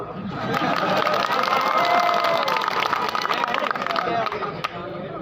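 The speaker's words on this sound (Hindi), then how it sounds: "कि माइक वाले के लिए ताली बजाओ।" A large crowd at an outdoor Congress party election rally in Mustafabad claps and cheers in a sustained, dense wash of applause, with background chatter mixed in.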